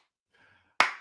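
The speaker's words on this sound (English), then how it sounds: "Slow clap." A single sharp hand clap lands after a brief quiet pause, close and crisp, with a quick decay.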